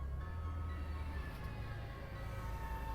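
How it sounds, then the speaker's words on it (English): Train pulling into a station in the video game Cold Verdict, a steady low rumble with a sustained tonal hum and faint metallic squeal, continuous and moderately loud, no speech. "Ah, looks like my train's here now."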